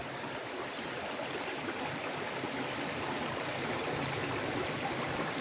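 Clear water of an unpolluted mountain river rushes in a steady, continuous wash, close and constant throughout with no voices.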